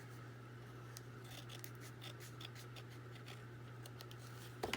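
Scissors make quiet, scattered snips while trimming paper for a paper doll folio, set against a steady low hum in a quiet room.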